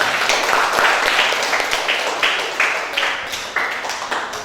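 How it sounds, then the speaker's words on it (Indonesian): Students in a classroom clap in a lively, rhythmic group, with patterned bursts of hand claps that gradually thin and fade toward the end. "tepuk tangan dulu"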